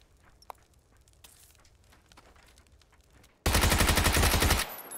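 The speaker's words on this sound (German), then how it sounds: "von der anderen Seite wird auch noch auf mich geschossen" Rapid automatic gunfire in the video game PUBG, a loud sustained burst of closely spaced shots that starts abruptly after quieter moments of faint distant pops and footstep-like clicks.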